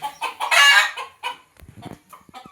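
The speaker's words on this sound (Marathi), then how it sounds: "बघा कोंबड्यांचा सुद्धा कालवा चालला भरपूर सारा" Farm chickens cluck and squawk loudly and excitedly in overlapping calls close by, with one drawn-out crow-like call, then the birds drop to quieter, scattered clucks.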